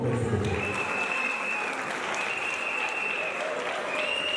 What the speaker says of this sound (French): Applaudissez encore pour eux.